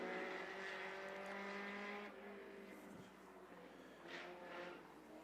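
A non-wing sprint car roars down the front straightaway at a dirt speedway, its high, harmonic engine note loud and sustained, then easing off as it passes, with other cars faintly audible behind.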